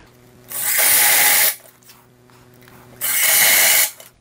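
A power drill drives number 6 by 1.25 inch square-drive sheet metal screws into a cabinet drawer in two loud, close whirring bursts of about a second each, separated by quieter shop background.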